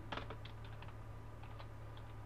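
Computer keys clatter as code is typed for an E2 chip in Garry's Mod: a quick burst of light clicks, then scattered taps, soft and near over a low background hum.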